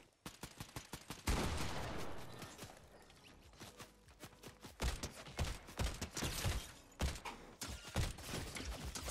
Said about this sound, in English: There's somebody shooting from the top of the barns